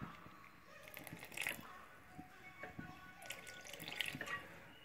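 Orange blossom water is poured from a spoon into simmering milk pudding on the stove, giving soft liquid trickles and drips with faint clinks in a quiet kitchen.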